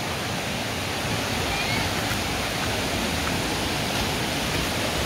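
Rushing water from a forest stream near the Jet Khot waterfall in Thailand, a loud, steady broadband wash filling the whole stretch, with wading splashes blended into it and no clear voice.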